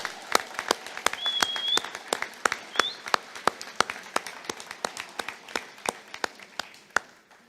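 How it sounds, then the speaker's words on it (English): A small crowd at a graduation ceremony claps for six seniors, sharp individual claps in a loose rhythm over a light bed of applause, with a couple of brief whistles early on. "I think all 6 of our amazing seniors deserve and need another round of applause."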